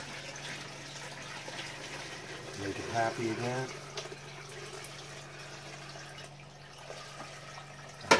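Top-off water pours into a home aquarium tank in a gentle, steady splash over a constant pump hum, swelling briefly midway, with a voice speaking quietly.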